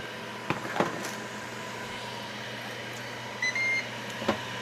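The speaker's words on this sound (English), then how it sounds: "I'm gonna pop it in the microwave." A microwave oven hums steadily with a low motor drone, a few clicks and knocks, and a short electronic beep near the end.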